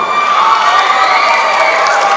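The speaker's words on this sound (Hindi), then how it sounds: "जोरदार तालियां इन दोनों बच्चियों के लिए" An audience cheers and claps loudly for a duet by two girls, Aarti and Priyanka, at a cultural festival's closing ceremony, a dense, steady roar of crowd noise throughout.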